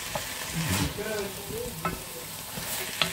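Paupiettes in mustard being stirred in a pan, with a utensil scraping and clinking against the metal over a steady close sizzle for several seconds, plus a few sharper knocks near the end.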